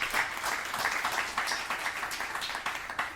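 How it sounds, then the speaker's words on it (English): Audience applause at a live podcast recording, a dense, steady patter of many hands clapping throughout the room with no voices over it. "I think he deserves a round of applause."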